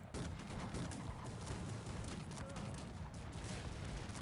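Dense, continuous booming and crackling cannon fire in a Cossacks 3 battle, heavy volleys blending into a constant roar.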